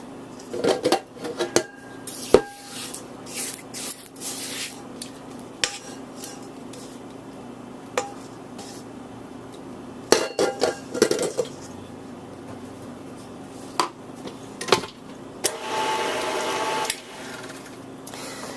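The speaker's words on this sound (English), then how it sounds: "I'm going to stop and scrape my bowl" A spatula scrapes and clinks around a mixing bowl of gluten-free, egg-free cake batter, with repeated sharp scraping taps and clatter over a low steady background hum, no talking.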